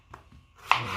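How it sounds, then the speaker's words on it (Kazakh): A single knife stroke chops an onion on a cutting board, with a short crisp cut near the end and a few faint taps before it, close and alone. "Мінекей енді пиязымызды тураймыз."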